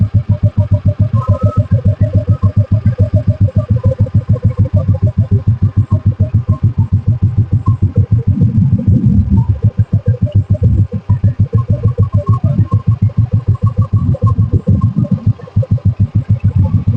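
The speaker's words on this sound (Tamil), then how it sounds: "இன்ஜின் பீட் அருமையா இருக்குங்க." A red 1994 Royal Enfield Bullet petrol motorcycle idles close by with a steady, loud, throbbing thump and a mechanical clatter that stays even throughout, no voices over it.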